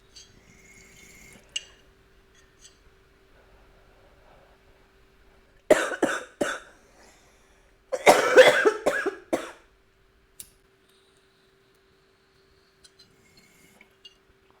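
A burst of several hacking coughs, then a second longer fit of harsh coughing, in an otherwise quiet room with a few small clicks.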